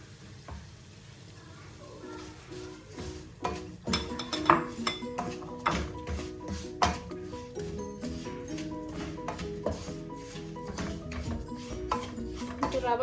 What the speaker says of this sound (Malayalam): റവ കുറച്ച് നേരം ഒന്ന് വറുത്തെടുക്കാം.